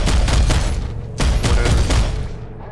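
Aircraft weapon fire in the PlanetSide 2 video game, a loud close burst of rapid heavy shots in two bursts with a brief gap, ending as the firing trails off.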